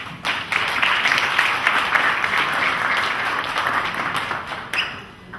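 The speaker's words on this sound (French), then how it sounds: "Je voudrais qu'on applaudisse très fort" A crowd at a ceremony applauds loudly for an entrepreneur from Burkina Faso, founder of a construction-materials group, in a dense, sustained roar of clapping that holds steady for about five seconds before easing slightly.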